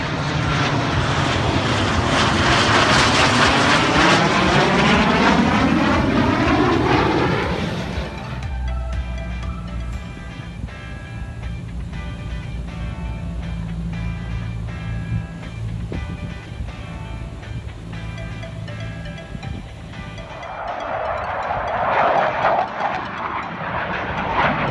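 A trainer jet flies past at a Boeing facility in St. Louis, a loud roaring engine rush that peaks early, then fades to a distant rumble before a second surge of engine noise at the end.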